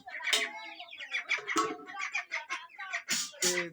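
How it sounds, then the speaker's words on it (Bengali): Chickens in a farmyard give a quick run of close, repeated clucks and short squawks, bunched together in a brief, busy burst. "এই যে আমাদের মুরগি আমাদের মুরগি দেখো"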